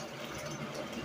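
A kitchen vent fan runs in a steady broadband whoosh with a low mechanical hum, loud and continuous throughout, with no other sounds.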